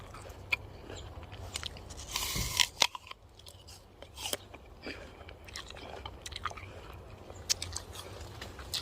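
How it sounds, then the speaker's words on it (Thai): Someone bites into an unripe roadside apple with a crisp crunch, then chews wetly with repeated crunching close to the microphone, over quiet outdoor background and no talk. "เดี๋ยวเราลองชิมลูกหนึ่ง ชิมลูกนะ"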